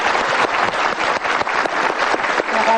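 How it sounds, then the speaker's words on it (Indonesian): Brief, close audience applause with dense, steady clapping that carries on without a break. "Berikan tepuk tangan dong."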